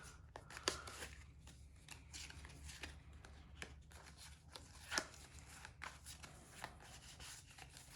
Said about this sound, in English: It's a little tricky to shuffle this few number of cards.